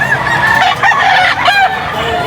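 Roosters crow loudly nearby at a pet market in Angeles, Philippines, several calls overlapping with clucking hens in a busy, crowded setting.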